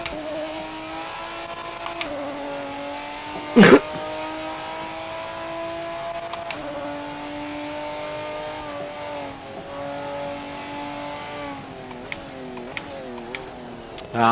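Video-game car set up for drifting, engine revving and holding high rpm with steady harmonic whine that rises and falls, one sharp burst near the start, continuous and loud with no talk.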